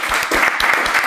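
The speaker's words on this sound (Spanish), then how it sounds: "un aplauso para Javier" Applause from an audience at a Spanish talk on the economic impact of the digital tax, a dense, close burst of clapping filling the whole brief moment.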